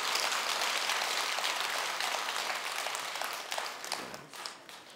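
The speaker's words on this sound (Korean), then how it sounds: "끝내라고 박수 쳤으니까" Applause from the audience at a Buddhist dharma talk in a temple hall, a dense sustained patter of clapping that fills the room and thins slightly toward the end.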